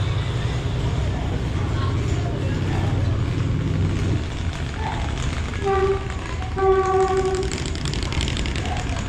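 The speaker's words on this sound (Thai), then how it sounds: "นู่นมีรถไฟเข้ามาด้วย" A train rumbles in at busy Hat Yai Junction station in Songkhla, Thailand, its low rolling noise under a man's speech, with brief squeals and tones from the rails.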